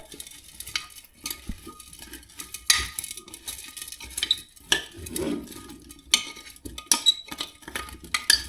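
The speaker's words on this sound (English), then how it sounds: "So we're going to give this a quick stir." A spoon stirs a lime mixture in a kitchen, giving intermittent scrapes and clinks against the bowl over several seconds, close and moderately loud with no talking.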